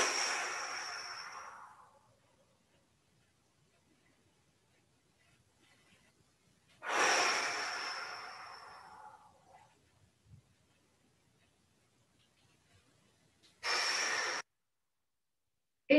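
Long, deep inhalations during a Qi Gong exercise, close and clear, in three separate breaths: two slow swelling breaths fading out, then a shorter one, with quiet pauses between them.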